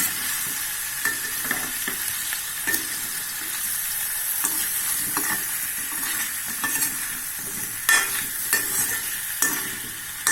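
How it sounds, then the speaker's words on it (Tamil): Raw plantain pieces sauté and sizzle in a hot pan, a steady frying hiss broken by frequent scraping stirs and light clinks of a spoon against the pan, close and continuous throughout. "லேசாக அரை வேக்காடை வதக்கிடலாம் வாழைக்காயை."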